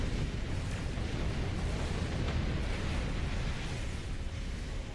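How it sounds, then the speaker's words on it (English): A starship explodes in the space combat game Star Trek Online, a dense, sustained roaring rumble of blast noise that fills the whole stretch at moderate loudness, with no voices over it. "I love how all the ships have different explosions."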